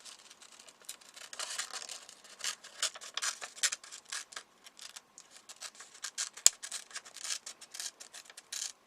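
Scissors snip and rustle through paper while cutting pieces for a collage, a close run of quick, uneven crisp cuts and soft scrapes.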